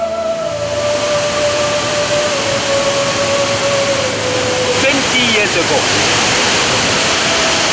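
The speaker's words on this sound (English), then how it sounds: "I love the waterfall because it makes me very, very peaceful." Waterfall on Redang island roaring as a loud, steady broadband rush from start to end, with a person talking over it and a brief whistling tone early on.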